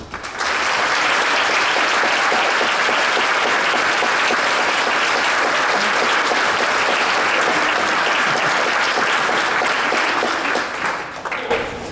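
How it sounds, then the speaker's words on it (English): Sustained applause from a concert audience at a high school winter band concert, a dense wash of clapping that starts after a second, holds steady and loud for about ten seconds, then tapers at the end. "I want to give her a round of applause with Adrian."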